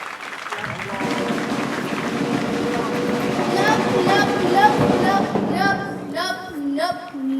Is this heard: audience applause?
yes